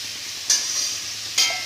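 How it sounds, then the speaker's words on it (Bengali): Diced potatoes frying in oil, giving a steady close sizzle broken by two brief bursts of stirring, with no voices. "আলুগুলো লাল লাল করে ভাজা হয়ে গেছে এবার আমরা তুলে নেব"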